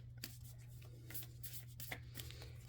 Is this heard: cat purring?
no